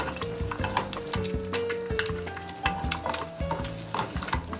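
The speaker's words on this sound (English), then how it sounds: "In we go. Oil bath." Food dropped into a hot oil bath in a wok sizzles and crackles loudly, with a continuous bubbling hiss and sharp popping bursts close by, and no voices.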